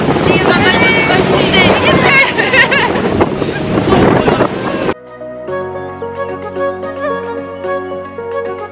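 A boat tour on open water in Norway, with wind buffeting the microphone and a steady rush over voices for about five seconds before music takes over.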